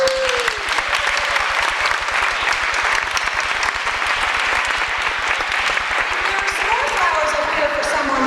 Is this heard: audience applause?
yes